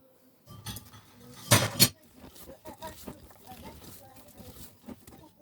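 Cake batter for a mascarpone-strawberry genoise log being mixed after sifted baking powder is added: utensil clinks and scrapes against a bowl, with a loud clatter burst near the start, close by, while a voice talks.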